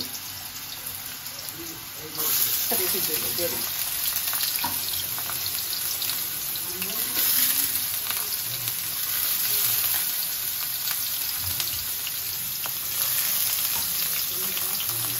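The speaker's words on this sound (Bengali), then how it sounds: "এখন আমি যে আলুটা ভাইজে নিই" Potatoes fry in a pan with a bright, steady sizzle that jumps louder after a couple of seconds and stays hissing, with faint stirring scrapes mixed in.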